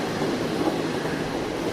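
A train carriage rolls steadily on its rails, a continuous close rumble with faint rhythmic clatter running throughout and no voices.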